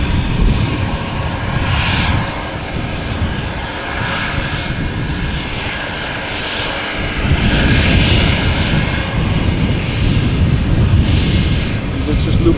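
Lufthansa airliner engines at Amsterdam Schiphol Airport, a loud jet roar that surges and swells across the span, with people talking over it.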